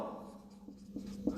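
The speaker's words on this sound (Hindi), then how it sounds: "तो हम लिख सकते हैं" A pen or marker writes on a board during a Raman spectroscopy lecture, with faint scratchy strokes and small taps, quiet and close, with a low background hum.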